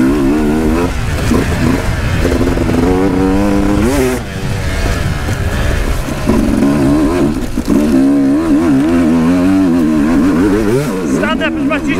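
An enduro motorcycle at a hare and hound event roars loudly throughout, revving up and down with shifting engine pitch as it is ridden over rough ground, with a rider talking over the engine.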